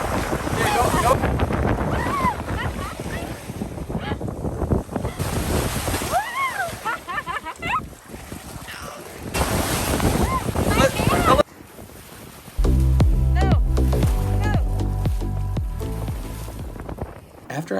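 Ocean surf breaking on a beach, with steady rushing wash and loud wind buffeting the microphone throughout, some voices and shouts in between, and a sudden drop then return of the roar partway through.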